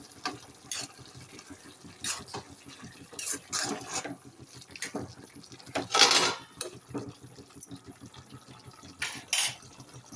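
Tomatoes are mixed into a ridge gourd curry in a pan, producing scattered scraping and clattering of a spoon against metal, with soft wet stirring sounds in between and a few sharper clinks at irregular moments.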